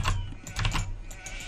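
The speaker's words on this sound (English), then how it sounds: "There's our sheep." Sheep bleat in Age of Empires II: a few short, nasal calls come close together over light game ambience, with no talking.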